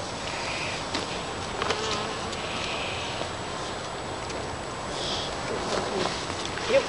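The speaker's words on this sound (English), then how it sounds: "There's another big sunflower with bees." Bees buzz around a big sunflower in a summer garden, faint intermittent hums drifting near and away over quiet outdoor background.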